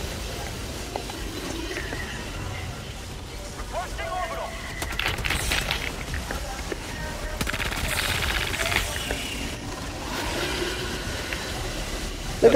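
Rapid automatic gunfire and explosions from Helldivers 2 combat crackle in dense bursts across a noisy battle soundscape, with a player talking over it.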